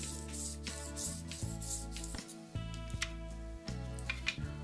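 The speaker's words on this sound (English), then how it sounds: "A medium number, like 1000 grit, will be needed to start sharpening the blade." A knife blade is stroked across a 1000 grit whetstone in a series of rhythmic rasping passes, close and fairly quiet, each scrape separated by short pauses.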